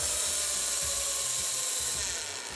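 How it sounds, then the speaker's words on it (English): Small toy helicopter motors whir with a high, steady whine, close and fairly loud, with a rapid buzzing flutter underneath that fades slightly at the end. "helicopter is on now"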